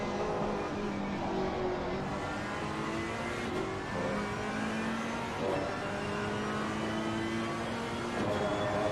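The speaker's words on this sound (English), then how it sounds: "hunting down a very different sounding V8 in the BMW." Ferrari and BMW V8 GT race cars scream around the Nürburgring in the Assetto Corsa Competizione sim, engines howling and rising through gears with shifting pitch, loud and continuous without speech.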